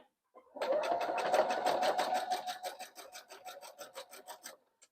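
A sewing machine back stitches through a jelly roll rug, a dense run of rapid needle strokes that starts loud, then slows into distinct evenly spaced stitches fading slightly toward the end, close and alone with no talk.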